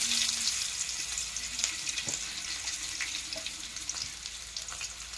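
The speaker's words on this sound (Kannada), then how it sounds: "ಸ್ವಲ್ಪ ಬೆಳ್ಳುಳ್ಳಿ ತೊಗೊಂಡು ಇವಾಗ ಬೆಳ್ಳುಳ್ಳಿ ಹಾಕ್ತೀನಿ ನೋಡ್ರಿ" Garlic sizzles steadily in hot oil in a village kitchen, a soft continuous frying hiss with faint clinks and stirring in the pan.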